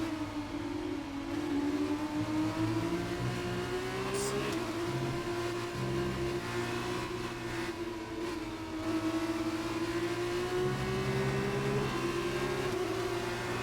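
Formula 1 racing car engines in the F1 2019 video game drone continuously with a high, slowly shifting whine, loud and steady, with a brief spoken remark over it.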